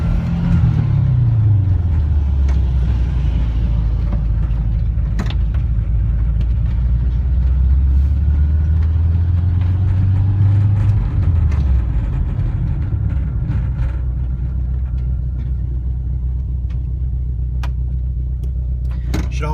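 A 1984 Volkswagen Vanagon Westfalia engine pulls hard on a test drive, its low drone climbing through a gear, dropping at a shift, then rising and settling into a steady rumbling cruise with road noise.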